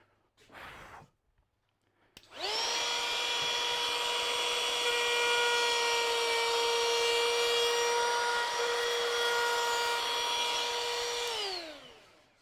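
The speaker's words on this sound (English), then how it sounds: "And the trimmer again, one more time." A wood trimmer whirs up to a steady high-pitched motorized drone, holding for about ten seconds before winding down, loud and close, cutting wood.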